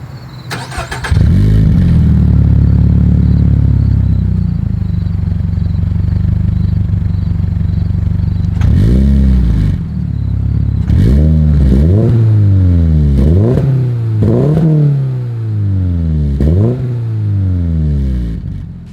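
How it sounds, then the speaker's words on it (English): A 2023 Toyota GR86 with a manual gearbox starts up and settles into a loud, steady idle. A run of about six sharp throttle blips follows, each exhaust rev rising and falling quickly, recorded up close with no speech. "As always, here is that exhaust clip."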